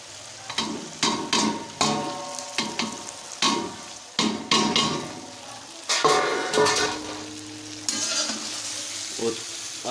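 Okra added to spice masala and stirred with a ladle in a village-style kitchen, frying with a steady sizzle broken by repeated scraping and clanking strokes against the pan, close and fairly loud, with no talking.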